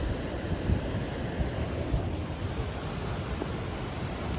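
Sea waves wash steadily ashore near an island, a dense continuous surf roar with gusty wind buffeting close to the microphone.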